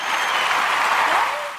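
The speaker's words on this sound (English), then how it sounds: "can you please clap hands for her?" Listeners on a podcast recording give a guest a short round of loud clapping, a steady wash of hands that swells briefly and then begins to fade.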